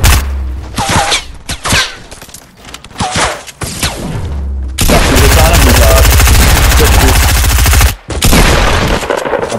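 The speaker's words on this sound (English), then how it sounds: "They're shooting at me." Video game gunfire during a duos match: bursts of rapid automatic shots rattle loudly, broken by brief pauses, with a player talking between and over the volleys.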